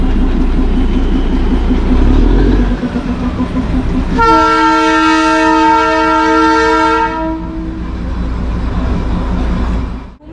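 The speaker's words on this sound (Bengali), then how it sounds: "এই ঘুম রেলওয়ে স্টেশন থেকে এই টয় ট্রেন ছেড়ে বেরিয়ে যাচ্ছে।" A toy train pulls out of Ghum railway station in Darjeeling, rumbling and clattering close by, and a long, loud horn blast sounds midway over the running train.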